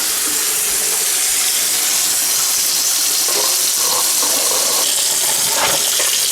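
Cold tap water gushing steadily into an acrylic sink, a continuous close hiss with slight splashing variations.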